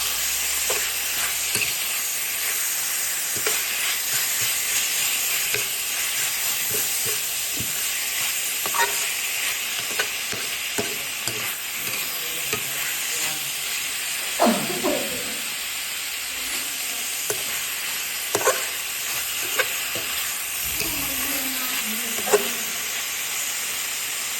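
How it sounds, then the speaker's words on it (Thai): Pork and boiled bamboo shoots stir-fried in a pan, a steady bright sizzle running throughout with repeated scraping stirs and occasional louder clatters of the utensil against the pan. "ตามด้วยหน่อไม้ หน่อไม้นี่ต้มสุกแล้วนะคะหน่อไม้ต้มสุกแล้วแล้วก็คนค่ะ"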